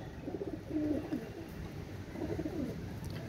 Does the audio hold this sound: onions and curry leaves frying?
no